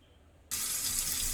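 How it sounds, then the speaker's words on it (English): Cold water gushes from a kitchen tap into a stoppered sink, switching on abruptly after a brief quiet moment and then running in a loud, steady hiss. "I fill up my sink with cold water, always cold water."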